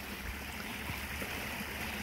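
Creek water runs in a steady, soft broadband wash, fairly faint and continuous throughout, with no voices.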